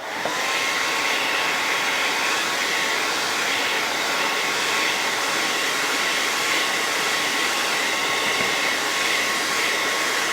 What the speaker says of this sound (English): so I'm going to do my blow dryer. Sorry for the noise.